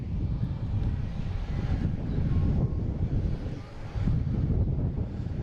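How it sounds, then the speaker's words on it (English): A Delta Boeing 767 arriving from Dublin at Boston Logan, its engines a steady, broad jet roar with wind buffeting the microphone throughout, holding at an even loudness with a brief dip near the end. "So this Delta 767 just came in from Dublin"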